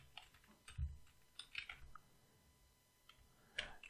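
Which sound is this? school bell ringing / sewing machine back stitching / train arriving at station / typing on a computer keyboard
typing on a computer keyboard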